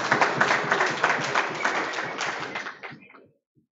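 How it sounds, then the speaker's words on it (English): An audience applauding at a chess federation election meeting, a dense burst of clapping from many hands that fades out after about three seconds. "clap for yourselves"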